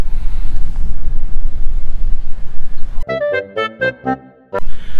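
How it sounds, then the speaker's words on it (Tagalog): Strong wind near Mayon Volcano buffets the microphone with a low, rumbling roar for three seconds, then gives way to several short, bright horn-like tones. "sarap na hangin dito, ang lamig"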